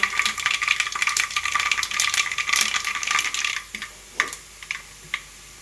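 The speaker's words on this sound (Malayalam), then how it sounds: "കടുക് പൊട്ടി വരുന്നുണ്ട് കേട്ടോ." Mustard seeds splutter in hot oil for a pineapple pickle, a dense run of close, sharp pops and crackles that thins into a few isolated snaps near the end.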